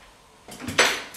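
Chopped pieces land in a mixing bowl with a couple of short, close clattering knocks, the second a bit louder, with no talking.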